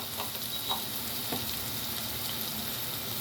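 A fried paste with a pinch of turmeric sizzles steadily in a pan while a spoon stirs it, with a few light scraping touches over the continuous frying hiss.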